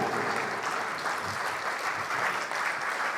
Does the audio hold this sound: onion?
no